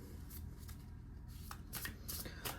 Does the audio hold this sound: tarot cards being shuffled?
yes